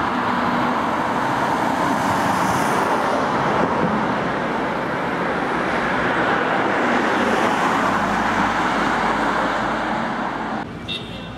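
Steady roar of road traffic in the small town of Battle, outside the entrance to the Abbey near St Mary the Virgin church, with cars and heavier vehicles passing continuously and loudly throughout.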